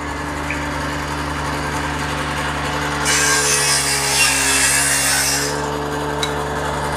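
Wood cutting machine working teak in a door-making workshop, a steady mechanical hum with a louder rasping cut through the wood for a few seconds in the middle before easing back to the drone.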